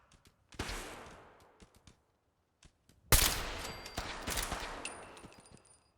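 Gunfire in the video game Fallout 4, with scattered sharp cracks, a first burst of shots, then a louder, denser exchange of fire fading toward the end.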